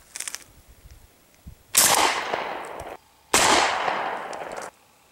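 .410 shotgun firing steel chopstick payloads outdoors, two sharp loud blasts about 1.6 seconds apart, each with a ringing decay, after faint clicks of handling.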